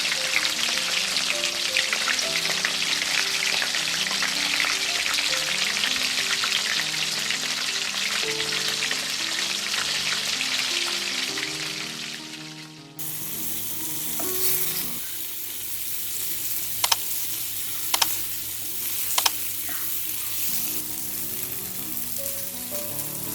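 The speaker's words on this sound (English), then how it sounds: "Here I am going to put the fishes over the kadai or frying pan" Loud, continuous sizzling and crackling of hilsa fish frying in hot mustard oil in a kadai, with a faint background melody and a few sharp clinks of a utensil.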